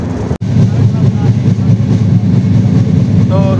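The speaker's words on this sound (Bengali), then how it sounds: "রূপসী বাংলা এক্সপ্রেসের এই যে আস্তে আস্তে গিয়ার আপ হচ্ছে" The Rupshi Bangla Express, hauled by an EMD locomotive, slowly picks up speed as it pulls away, a loud, steady, close rumble with a brief dropout near the start and faint voices beneath.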